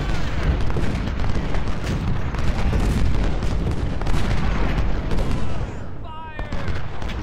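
Cannon artillery from Civil War era battle lines in Ultimate General: Civil War booms in dense, continuous volleys with crackling musket fire, loud and unbroken, with a brief lull near the end.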